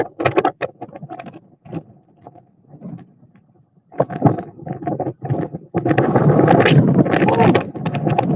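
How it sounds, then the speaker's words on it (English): Strong wind gusts hit the microphone outdoors, coming in bursts with near-quiet gaps before a sustained loud roar takes over in the final seconds. "This wind ain't no joke now."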